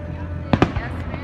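Fireworks bursting at the Stanford fireworks show, two sharp close cracks in quick succession followed by a fainter pop and distant rumble over crowd murmur.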